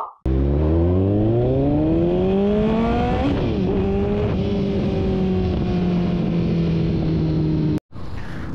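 A Triumph Bonneville T120 motorcycle with a 1250cc engine revs hard and loud, its pitch climbing and then holding at a high, steady roar for several seconds before cutting off abruptly.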